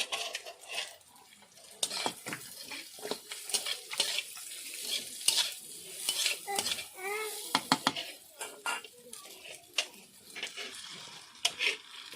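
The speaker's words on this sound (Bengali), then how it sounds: "আগে থেকে ভেজে রাখা আলুগুলো দিয়ে দিচ্ছি" Pre-fried potatoes go into a pan of hot mustard oil, setting off a steady sizzle with repeated clinks and scrapes of a utensil against the pan, while faint voices carry in the background.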